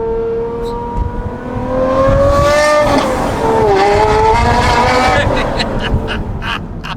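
A manual Aston Martin V12 roars close and loud through a sustained run, its pitch climbing, dropping at a shift, then rising again, with brief tire noise near the end.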